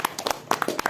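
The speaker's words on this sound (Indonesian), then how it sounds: "Tepuk tangan dulu." A small audience at a poetry reading claps briefly, with a few scattered, uneven hand claps over about a second and no one speaking.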